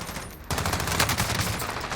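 Rapid automatic gunfire in the video game Call of Duty Warzone, a dense burst of shots that kicks in suddenly after a brief lull and keeps going loud.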